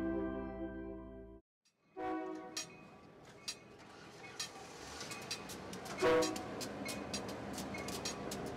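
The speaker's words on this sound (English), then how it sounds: "no one knows how many more trains will pass by the last magnetic flagman before Orange County's final wigwag signal is gone forever" A train passing a wigwag railroad crossing signal in Anaheim, California: a sustained horn blast cuts off, then rumbling cars roll by close with repeated clacking wheel hits and a brief louder burst partway through.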